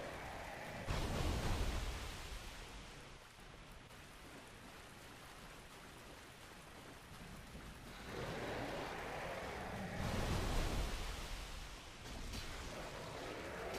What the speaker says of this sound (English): You can see that the water falls off over there.